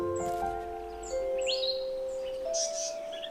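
A pair of agitated African paradise flycatchers calls in bushland, sharp chirps and whistled notes ringing out over steady tonal insect or bird drone, close and fairly loud.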